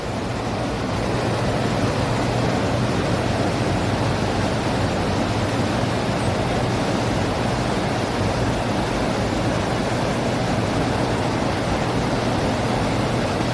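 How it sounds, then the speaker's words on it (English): Rushing river rapids seen from a bridge during a cross-country trip make a steady, dense roar of churning water that holds at an even loudness throughout, with no voices over it. "you can see some of the rapids,"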